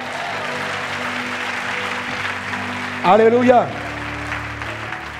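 A church congregation bursts into a short cheer and clapping, a brief swell of voices under a preacher's amplified speech.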